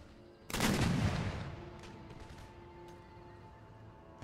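A musket volley in Empire Total War, a sudden massed crack of many muskets firing together, rolling into a long fading rumble with scattered later shots.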